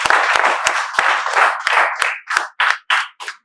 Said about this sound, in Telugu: మేము చప్పట్లతో స్వాగతాన్ని తెలియజేస్తున్నాం